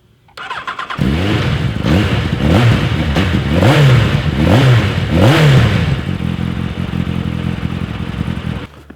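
A Yamaha XJR1300 motorcycle engine starts and revs repeatedly in loud, rising and falling bursts, then settles into a steady close idle.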